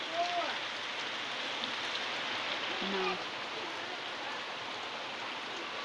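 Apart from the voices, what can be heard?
heavy rain falling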